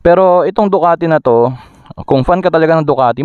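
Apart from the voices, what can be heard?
No everyday noises stand out.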